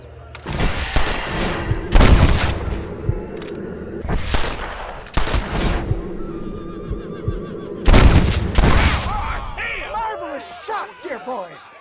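Gunfire in the video game Red Dead Redemption: several loud, close revolver and rifle shots in separate bursts spaced over about twelve seconds, with a horse's whinny near the end and no talk.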